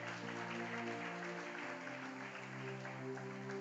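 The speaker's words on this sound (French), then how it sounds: "Est-ce que quelqu'un m'aide à acclamer le Seigneur Jésus?" A church congregation applauds and cheers for Jesus at a French-language sermon, sustained dense clapping that carries steadily and loudly throughout with no speech over it.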